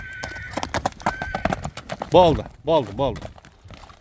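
A horse walks at a steady gait, its hooves clip-clopping close by in quick, even beats, and a man calls out briefly near the end.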